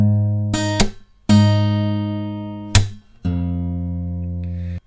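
Acoustic guitar with a capo on a G-shape chord, open sixth string bass note: four plucked, ringing strums, each cut off by a sharp percussive slap, close and clear with no voices.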